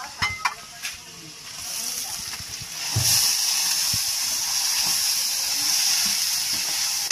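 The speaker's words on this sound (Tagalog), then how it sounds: "tayo po nagigisa na ng ating paksiw" Paksiw sautéing in a hot pan gives a loud, steady sizzle and hiss after a few clinks and thumps at the start, with occasional faint voices nearby.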